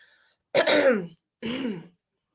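Two throat clearings, close and fairly loud, separated by a short pause, with no talking.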